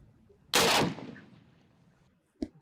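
A cinematic opening gunfire effect: a sharp, loud burst of shots that decays into a fading tail, followed by a brief, quieter crack near the end.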